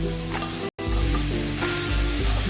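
Pieces of ash gourd frying in a hot pan, a loud continuous sizzle with a crackling hiss throughout and a brief break in the middle.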